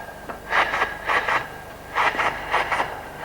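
A voice imitates a diesel train, making rhythmic chugging bursts in two groups of paired beats, fairly loud and close.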